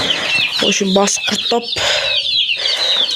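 Brahma hens and a rooster clucking in a coop, a busy run of close, sharp clucks and squawks while a person talks over them.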